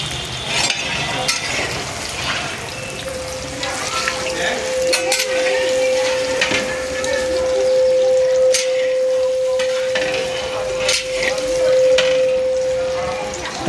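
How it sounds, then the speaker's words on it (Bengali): Chicken pakora pieces fry in oil in a wok, a continuous close sizzle with occasional clinks and scrapes of stirring. "তারপরে আমরা কড়াইতে তেল দেব, দেওয়ার পরে একটা একটা করে চিকেন"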